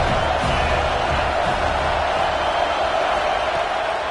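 A stadium crowd cheers in a college football video game, Tulane playing at Notre Dame, as a steady, dense roar of many voices that holds level throughout and sounds alone without commentary.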